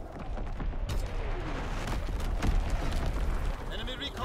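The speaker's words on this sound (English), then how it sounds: "Incoming enemy artillery." Incoming enemy artillery in a World War II shooter game: a dense, continuous rumble of distant shell blasts and crackling fire, with sharper impacts near the middle and voices talking throughout.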